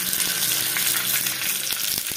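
Curry leaves tempering in hot oil for a beetroot chutney, a steady dense crackling sizzle with scattered sharp pops, close and fairly loud throughout.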